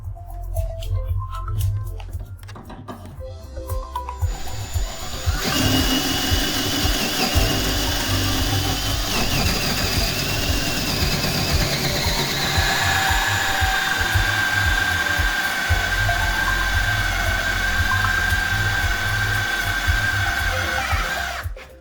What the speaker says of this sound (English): you set it up on our installation jig and then you start drilling